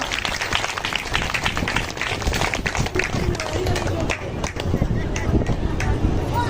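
Vigorous clapping from a large gathering at a spiritual discourse marking Sant Sawan Singh Ji Maharaj's birthday: sustained, dense, close applause with sharp individual claps standing out, running unbroken throughout.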